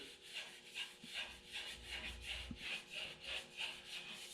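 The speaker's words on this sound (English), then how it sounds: "You can hear my hand going across there and just the difference." A hand rubs back and forth across an unsanded car body surface during paint prep in a quick, rhythmic series of faint, close scratchy swishes.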